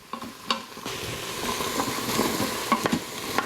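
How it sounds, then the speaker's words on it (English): Sliced carrots sweating in an Instant Pot, giving a close, soft sizzle with intermittent spoon stirs and light clinks against the inner pot, no talking. "So I'm just gonna let these sweat,"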